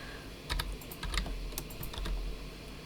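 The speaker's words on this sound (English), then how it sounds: "typing that into the calculator" Numbers keyed into a calculator for a prism surface-area problem, a quick burst of light clicky taps, close and fairly quiet, with no talking.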